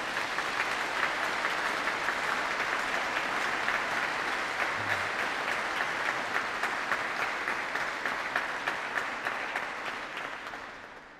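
Congregation applauding inside a Polish church sanctuary, a dense, steady wash of many hands clapping at close range that holds for about eleven seconds before tapering off at the end, with no voices heard.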